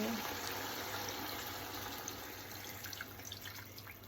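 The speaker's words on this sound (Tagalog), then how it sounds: "Then, ilalagyan ko na siya ng water." Water poured into a cooking pan with sautéed patola and sotanghon, a faint steady trickle and splash under a quiet background hum.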